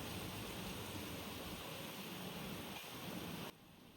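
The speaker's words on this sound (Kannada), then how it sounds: "ಇವತ್ತು ಸಖತ್ತಾಗೆ ಮಳೆ ಬರ್ತಾ ಇದೆ, ಇನ್ನೂ ಬರ್ತಾನೇ ಇದೆ ನೋಡಿ." Heavy rain falls outside in a dense, steady hiss that holds at an even level and then drops abruptly near the end.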